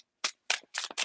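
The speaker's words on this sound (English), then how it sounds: "Okay, I'm going to shuffle 3 times." A deck of cards being shuffled in several short riffle bursts, crisp and close, with brief silences between them and no talking.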